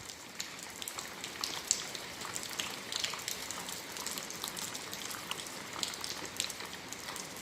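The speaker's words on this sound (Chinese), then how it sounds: "这是秋天下的最长的一场雨啊， 一场秋雨一场凉" Steady, long-lasting autumn rain falls in northern Tianjin, a dense close patter of drops striking surfaces that holds at an even moderate level throughout, with no voices.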